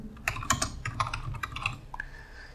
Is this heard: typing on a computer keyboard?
yes